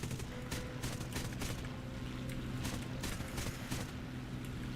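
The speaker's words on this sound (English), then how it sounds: "Burning a lot of MG ammo here." A P-51H fighter fires its machine guns in War Thunder, a faint, rapid crackle of bursts over a steady engine drone, running continuously at a distance.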